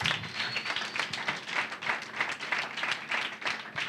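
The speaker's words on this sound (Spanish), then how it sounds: "Aplaude a Jesús con todo tu corazón." A church congregation applauds throughout, a steady dense wash of many hands clapping in a reverberant hall, fairly loud with no voices over it.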